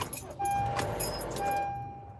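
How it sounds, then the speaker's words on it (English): Car keys jangle briefly, then a car starts and settles into a steady idle with a faint whine heard from inside the cabin. "let me turn on my car"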